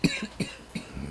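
A person coughing in a short series of several quick, fairly faint hacking bursts, close by, with no talk.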